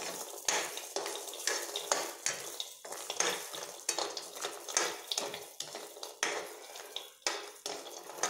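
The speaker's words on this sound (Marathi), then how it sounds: "एक नॉर्मल त्याला असं ब्राऊन कलर येईपर्यंत भाजून घ्यायचे आहे." Cashews roast in a hot kadhai for cashew curry, stirred with repeated scraping strokes and a soft sizzle, close and steady with short pauses between strokes.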